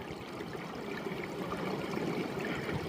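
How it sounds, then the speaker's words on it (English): A mountain stream on the Appalachian Trail runs straight out of the rock, a steady close rush and trickle of water that holds level throughout with no talking. "it'd be a crime to filter that water. It's so beautiful coming right out of the mountain like that."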